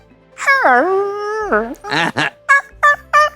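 A voice imitates a dog's howl, a long wavering whine followed by several short yelping barks, close and loud with no other sound.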